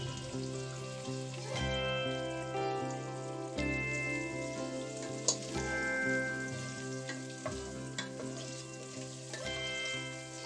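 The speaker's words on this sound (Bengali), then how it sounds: "তেহেরির সাথে খাওয়ার জন্য একটু লবণ আর গোলমরিচ দিয়ে আমি ডিমটি শ্যালো ফ্রাই করে নিচ্ছি।" An egg shallow frying in oil with salt and pepper gives a steady, close crackling sizzle throughout, punctuated by occasional sharper pops, over continuous background music.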